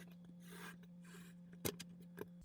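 Thin glossy shrunken leather, about 1.1 mm thick, is cut by hand with a freshly sharpened knife: soft rasping slicing strokes and a couple of sharp clicks, heard close over a steady electrical hum, with no talking.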